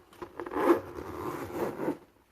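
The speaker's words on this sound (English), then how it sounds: "I'm just gonna pull the zipper and make sure it closes smoothly." A zipper being drawn closed on a gently used black Louis Vuitton Alma BB Epi leather handbag, a close, steady rasping run of about two seconds with a slight rise and fall in loudness and no talking.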